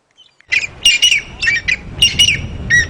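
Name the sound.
Shelley's francolin pair calling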